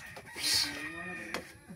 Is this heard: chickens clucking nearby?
yes